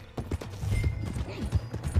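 Horse hooves pound in a rapid galloping rhythm in Red Dead Redemption 2, loud and close, with occasional low thuds and no talk over them.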